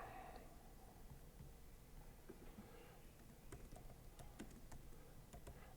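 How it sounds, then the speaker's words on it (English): Rapid typing on a computer keyboard at a desk, faint and steady over a constant background hum, with scattered sharper key clicks toward the end and no talking. "I'm typing"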